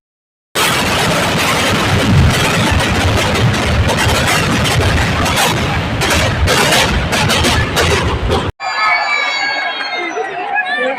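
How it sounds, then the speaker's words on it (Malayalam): Thiruvambadi fireworks at Thrissur Pooram in Kerala, a dense, loud barrage of rapid bangs and booms mixed with crowd cheering and shouts, ending abruptly before a quieter tail with voices. "അപ്പം നമ്മൾ കാത്തിരുന്ന വെടിക്കെട്ട് ഇതാ തുടങ്ങിയിട്ടുണ്ട് കേട്ടോ"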